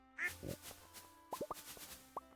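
Ducks on a Stardew Valley video game farm give a few short, soft quacks and plops, scattered sparsely over a quiet background.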